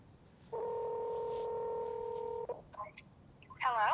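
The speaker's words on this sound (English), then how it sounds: "Next, I'm going to show you how to make a phone call" Ai Pin wearable device placing a phone call: a steady two-tone dialing beep holds for about two seconds, followed by short electronic blips and a bright rising chime near the end, fairly clear over a quiet background.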